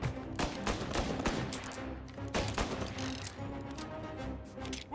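Gunfire in the video game Mafia Definitive Edition: dense, continuous volleys of loud shots overlap with a constant rumbling backdrop throughout, sounding like a heated firefight.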